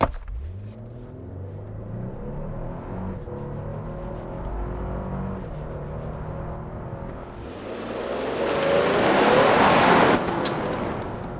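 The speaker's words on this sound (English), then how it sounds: "Yuri, floor it for me." A 2022 Lexus LX600 with a 3.5-liter twin-turbo V6 accelerates hard at full throttle, a steady low engine rumble swelling into a louder, rising roar toward the end, heard from inside the cabin.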